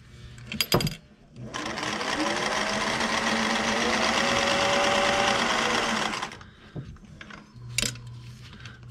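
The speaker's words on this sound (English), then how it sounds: "Now that's stitch right there, and I'm gonna go backwards here a little bit, back stitch to lock it." A sewing machine runs steadily for about five seconds, stitching through fabric, with brief clicks and handling noises just before it starts and after it stops.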